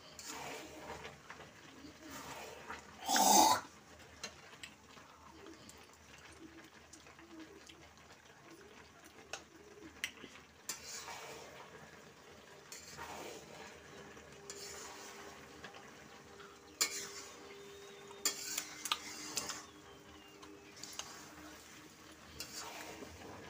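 A spiced jujube (kul) pickle is stirred in a pan with soft, intermittent scraping and clinks across the span, one louder clatter early on, while faint birds chirp and a person talks quietly now and then.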